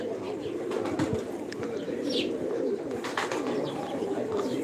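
Pigeons coo softly in a low, continuous murmur of overlapping calls, with a few faint chirps above and a quiet background.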